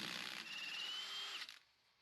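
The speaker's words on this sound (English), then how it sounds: "Now I'm gonna use an impact" On a 2000-2005 Dodge Neon, an impact wrench whirs loudly and steadily for about a second and a half while loosening the CV axle nut, then cuts off abruptly.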